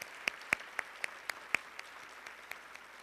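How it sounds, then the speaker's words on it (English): Sparse, faint applause follows a call to honour supporters of music therapy, with about a dozen distinct hand claps spaced out over a few seconds and no talking. "So we should give them a round of applause as well"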